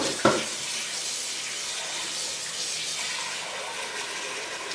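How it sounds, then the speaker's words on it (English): A kitchen sink tap runs in a steady, loud rush of water, filling a pot over raw chicken to cover it. "Turn on the water. And just fill up the water enough to cover the chicken."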